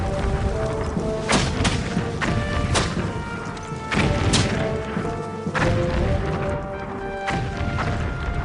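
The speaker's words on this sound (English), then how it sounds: "Jackson's artillery responds." Cannon fire from artillery in a battle reenactment of New Orleans, 1815: repeated heavy booms and thuds at irregular intervals, fairly distant and layered over a dense, noisy background.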